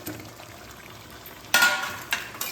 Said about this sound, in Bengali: এবার আমি আগে থেকে আলু ভেজে রেখেছিলাম, এটা এর মধ্যে দিয়ে দিচ্ছি।